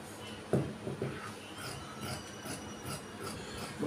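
Chalk or marker scratching pattern lines onto fabric before cutting slim-fit pants, a series of soft rasping strokes close by, irregular in rhythm, with a few sharper scrapes at the start.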